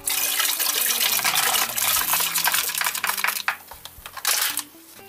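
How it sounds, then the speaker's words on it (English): Water pours from a tap into a pot holding cranberry juice, a steady close splashing rush lasting several seconds before tapering off with a few clinks of cookware. "And then we're going to add the water."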